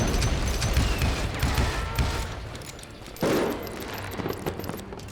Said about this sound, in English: they shooting fireworks?